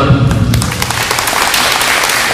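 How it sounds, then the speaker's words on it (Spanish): A church congregation breaks into applause for the Lord during a Spanish-language service, a broad wash of clapping that follows a brief low thud at the start and holds steady at close range. "Vamos a darle un aplauso al Señor"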